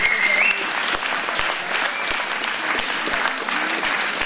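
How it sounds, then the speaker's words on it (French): An audience at a Téléthon evening in Saint-André-les-Alpes applauds a local association, producing a continuous, loud crackle of many hands clapping with a few sharper close claps, and faint voices underneath. "je souhaite réellement qu'on félicite et on applaudisse donc l'association Les Pivoines Bleus, représentée brillamment par ce président Lo"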